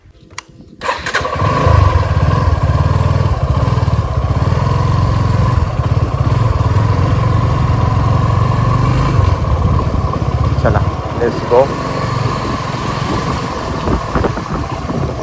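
A motorcycle engine fires up abruptly and then roars steadily close by, revving as it rides off; a voice briefly speaks near the start.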